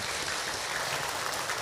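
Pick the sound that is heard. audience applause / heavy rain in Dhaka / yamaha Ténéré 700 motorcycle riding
audience applause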